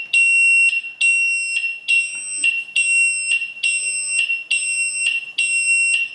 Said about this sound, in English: If the camera detected an unknown person, you can press the alarm button and camera will make a loud noise.